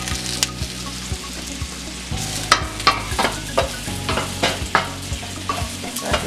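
Mushrooms sizzle steadily in a hot, oiled pan while a utensil scrapes and taps them in irregular strokes, close by with no talking.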